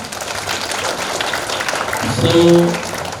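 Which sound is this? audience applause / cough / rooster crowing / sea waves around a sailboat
audience applause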